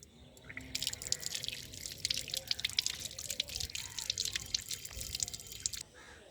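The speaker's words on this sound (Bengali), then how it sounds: "চলো ধুয়ে নিয়ে আসি পেয়ারাটা।" Running tap water splashing and dribbling over a guava being washed, a steady close trickle with irregular drips.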